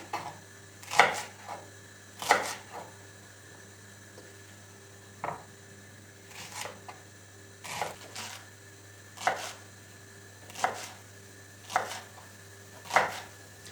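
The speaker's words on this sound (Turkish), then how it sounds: "Çok fazla küçük doğramayacağım arkadaşlar. Böyle büyük büyük olsun istiyorum." Leeks being chopped with a knife into large pieces for an olive-oil leek dish, about ten separate crisp chops at a slow, steady pace, close and clear over a faint steady hum.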